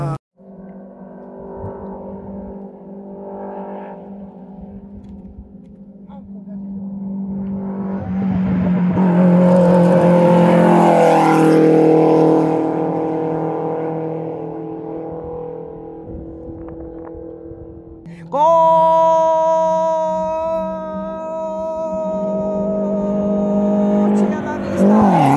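A rally car on a gravel stage in Peru, crewed by Edson Hancco and Holger Mamani, approaches with a rising engine roar that swells and peaks in the middle. It then settles into a steady drone with a sharp higher-pitched rev near the end.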